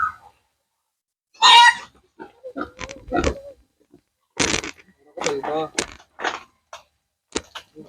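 Native pigs oink and squeal in short, scattered bursts, close by and fairly loud, with quiet gaps between calls. Voices are heard among them.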